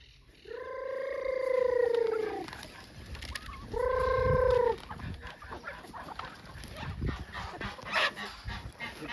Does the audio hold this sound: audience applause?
no